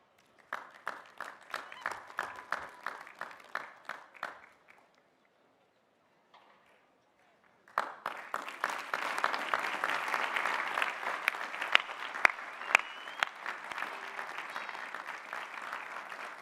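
Commencement and doctoral hooding ceremony audience: a few sparse claps at first, a short lull, then a broad, sustained round of applause from a large crowd for the graduates, with faint voices mixed in.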